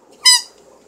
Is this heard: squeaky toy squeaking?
yes